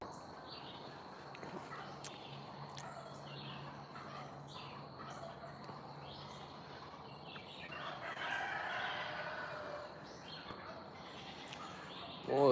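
Excited goats and turkeys call out across a rural Texas farm, distant and faint bleats and gobbles scattered over a steady outdoor background, swelling briefly louder near the end.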